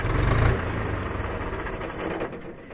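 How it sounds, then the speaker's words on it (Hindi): A Mahindra 47HP diesel tractor engine idles close by, a steady low throbbing rumble that starts loud and then settles slightly as it runs. "तो आपने देखा इसका जो साउंड है वो कितना ज़बरदस्त है इस ट्रैक्टर का।"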